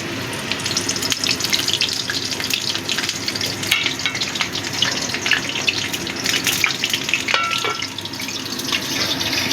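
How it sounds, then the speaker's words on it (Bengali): Pointed gourds (potol) fry in a pan, giving a steady, loud crackling sizzle that runs unbroken throughout, with occasional sharper spits and pops near the end. "পটলগুলো এবার ভেজে নেব একটা।"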